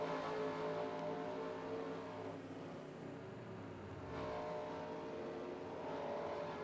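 Race cars roar around Richmond Raceway in the NR2003 racing game, a continuous dense engine drone with pitch swells as cars pass and accelerate, loud and steady throughout.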